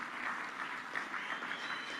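A crowd applauding the President at a public event in Dar es Salaam, a dense, steady wash of many hands clapping at once, moderately loud and without speech.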